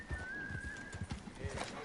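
A horse's hooves pound in quick, uneven clip-clop beats at a full gallop in Assassin's Creed 3, faint game audio with a thin whistling tone running beneath.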